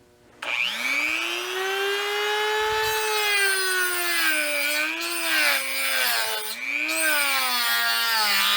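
A Mastercraft Dremel-style rotary tool spins up and cuts a keyway into a pressure washer pump shaft, giving a loud, close, high-pitched whine that holds steady and dips briefly in pitch whenever the bit bites into the metal.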